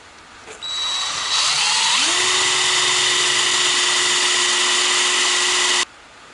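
A small-bit electric drill bores a hole in metal for a Citroën Traction 11B rear trunk hinge: the motor whines up to a high steady pitch, holds for a few seconds, then cuts off abruptly.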